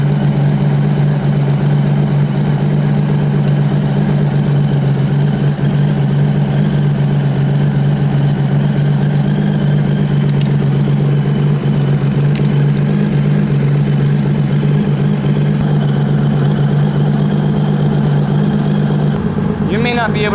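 Motorcycle engine idling after a fuel mixture adjustment, a loud steady low drone with an even pulsing hum that runs unbroken throughout, close to the microphone.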